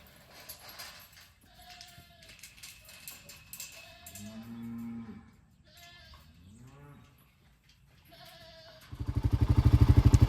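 Cattle calls out on a ranch during a daily herd check, several drawn-out harmonic bellows at moderate distance, separated by quiet gaps, with a loud engine or motor rumble starting up near the end.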